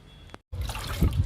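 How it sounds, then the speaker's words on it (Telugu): Liquid is poured onto a potted philodendron; after a brief silent gap a close, splashy trickle runs steadily to the end. "ఈ మొక్కకు కూడా ఇచ్చేద్దాము ఫిలోడెండ్రాన్కి."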